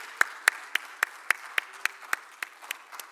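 Audience applause after a conference panel sounds as a thin, evenly spaced run of about a dozen sharp claps at a steady beat, fairly close and clear over a quiet room, with a slight murmur underneath.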